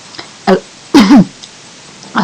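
A few sharp coughs and throat-clearing bursts, close and loud, separated by brief quiet pauses.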